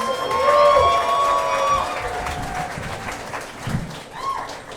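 A comedy club audience cheers, whistles and claps loudly for a contestant at a new-faces stand-up night, the roar strongest at first and then easing into scattered shouts and applause.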